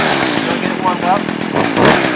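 Stihl FS 56-RC grass trimmer with its small two-stroke engine running steadily nearby, a loud buzzing drone with slight revving, mixed with a voice.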